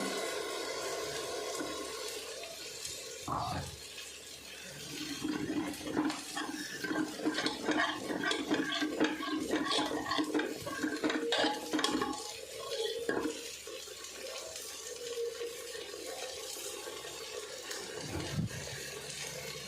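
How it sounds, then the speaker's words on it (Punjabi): Water added to the masala for aloo matar curry, then a long stretch of close, wet stirring and sloshing in the pan, with irregular scraping pulses and no one talking. "ਹੁਣ ਅਸੀਂ ਇਹਦੇ ਵਿੱਚ ਥੋੜਾ ਜਿਹਾ ਪਾਣੀ ਵੀ ਪਾਵਾਂਗੇ ਮਸਾਲੇ 'ਚ"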